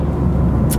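Engine of a 2021 BMW M4 Competition, a brief steady low rumble heard close and fairly loud.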